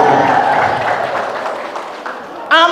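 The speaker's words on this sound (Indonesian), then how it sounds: "Tepuk tangan dulu." Applause from a religious lecture audience in Indonesia, sustained clapping under talk that fades near the end before a voice cuts in.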